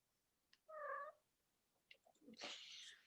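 A house cat gives a short, faint meow, followed a moment later by quieter rustling and a brief noisy burst, all in an otherwise quiet room with no speech.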